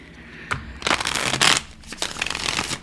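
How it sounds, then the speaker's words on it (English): Tarot cards riffled and shuffled in a few quick papery bursts, then single cards slapped down onto a surface, close and fairly loud with no talking. "I'm going to throw down a couple cards on that little guy."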